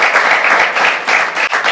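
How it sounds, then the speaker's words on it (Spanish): Loud, dense applause from a studio audience welcoming a guest doctor onto a Spanish health talk show, a continuous wash of many clapping hands close up with no talk over it. "fuerte el aplauso para él"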